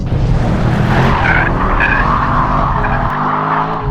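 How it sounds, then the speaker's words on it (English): A Mercedes-AMG E63 S in drift mode squeals its tyres in a loud, sustained skid, the engine roaring underneath, close and without pause. "basically smoke the tyres everywhere"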